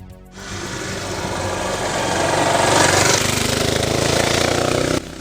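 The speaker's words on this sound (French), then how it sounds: "le système d'échappement d'origine de la nouvelle KTM Duke 4 690" A KTM Duke 690 single-cylinder motorcycle running on its stock exhaust, a loud, steady pulsing thrum that builds slightly in intensity and holds evenly before dropping off abruptly at the end.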